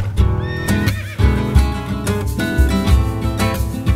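Horses neighing and whinnying with hooves clip-clopping as they carry ski touring gear up toward a volcano base camp, loud and close throughout, with several whinnies overlapping busy hoofbeats.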